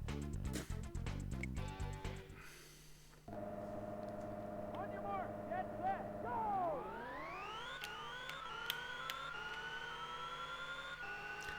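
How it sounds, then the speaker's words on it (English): A synthesized IndyCar engine from the SNES racing game Al Unser Jr's Road to the Top drones after a burst of beeping start tones, its pitch sweeping upward in repeated rising whines as the car accelerates, with someone talking over it. "That's really the difference in everything, is just the engine noise changes."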